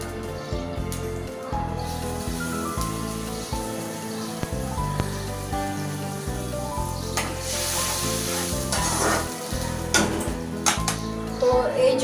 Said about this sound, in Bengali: এই জলটা একটু ফুটতে থাক